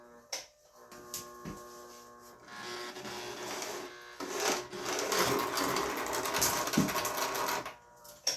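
The small electric motor of a Bowser model trolley, long unused, whirs faintly and unevenly. It builds from scattered starts into a steadier hum with occasional clicks.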